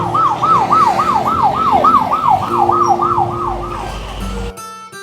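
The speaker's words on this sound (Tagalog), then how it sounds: "Negro, tumawag ka ng ambulansya para masugod na si madam sa ospital" A wailing ambulance siren sweeps up and down rapidly in a repeating pattern, loud and close, before cutting off abruptly near the end.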